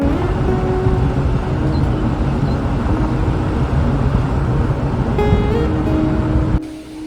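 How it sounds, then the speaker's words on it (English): A Suzuki Jimny drives through Costa Rica's Central Valley mountains, its engine and road rumble steady and loud throughout before the noise drops away abruptly near the end. "It's me driving the Jimny for a second."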